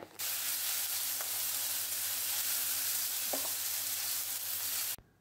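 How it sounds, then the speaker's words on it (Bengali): Ginger paste frying in a pan while being stirred, a close, continuous hiss and sizzle with a steady low hum underneath and a couple of faint scraping touches, ending abruptly. "ভালো করে কষিয়ে নেব যতক্ষণ না আদার কাঁচা গন্ধটা যায়"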